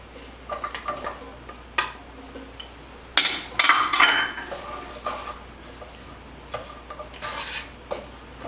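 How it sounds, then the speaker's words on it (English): Peppers and onions sauteing in a pan, with scraping and clinking of a utensil being stirred against the pan, brief loud bursts of sizzling and metal contact, and softer stirring in between. "I love sauteing peppers and onions."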